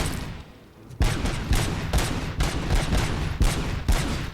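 A gunfight in Robocop Rogue City, with a volley of heavy shots opening after a short quiet moment and then repeating at a rough half-second pace, loud and close, amid crackling debris.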